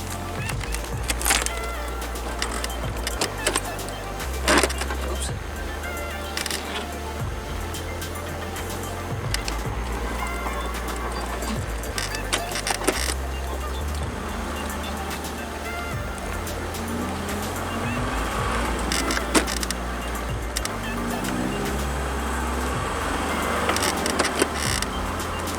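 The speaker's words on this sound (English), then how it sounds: "Let me get this car swung around here." A 1984 Pontiac Fiero under restoration, with no thermostat fitted, is driven and swung around, its engine droning low and steady with shifting pitch and scattered knocks and rattles across the half-minute run.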